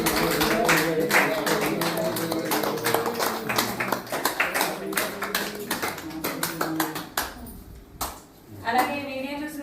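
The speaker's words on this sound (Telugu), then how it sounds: "అందరూ ఒకసారి క్లాప్స్ కొట్టండి" People at a birthday celebration in an ashram clapping together, a dense run of quick claps that thins toward the end, with a voice and some singing mixed in.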